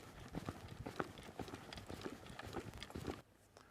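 A horse picks up a left-lead canter under saddle, its hooves beating out a steady, close three-beat rhythm of clip-clop footfalls that stops abruptly near the end.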